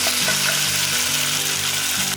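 Beef sautés with translucent onions in a pan for beef broccoli, a loud, even sizzle that runs without pause over a low steady hum.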